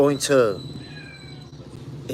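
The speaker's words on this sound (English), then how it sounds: "Y'all probably hear the cat and everything." A cat meows once, close and fairly loud, followed by a quieter stretch of low background sound.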